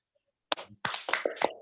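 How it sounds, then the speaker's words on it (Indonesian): Brief, scattered hand clapping from a few people, thin and compressed as if relayed through a Zoom call, starting after a moment of silence. "Mungkin kita beri tepuk tangan dulu untuk kalian yang telah berdiskusi dengan baik."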